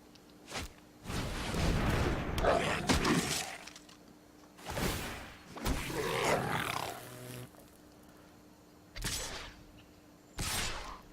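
Dragons roar in the MTG Arena card game, several long, loud, rumbling bursts, each lasting a second or two, with crashing, shattering effects and short gaps of quiet between them.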